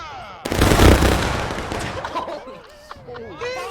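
A musket salute volley fired by a line of soldiers in the Civil War game War of Rights, a loud ragged burst that crashes out together and fades into crowd chatter and scattered voices.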